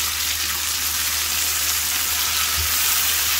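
Onion masala with medium tomatoes just added frying in a pan, giving a steady, even sizzle at moderate volume with no talking.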